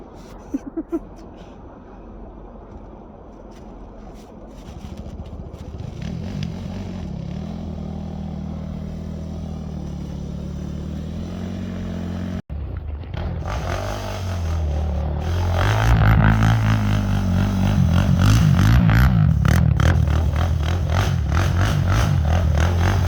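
A Honda TRX450R race quad ridden off-road, its engine droning and then rising into louder, harsher revving as it accelerates, with rattling and scraping of the machine under the ride.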